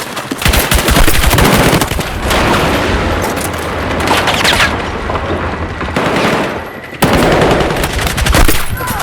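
Intense automatic gunfire and booming shots from a Battlefield 6 campaign firefight, sustained loud bursts of rapid fire with brief lulls and heavy impacts, close and dense throughout.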